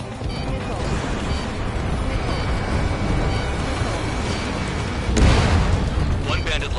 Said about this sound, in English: Enemy interceptors firing. Missile. Missile. Missile.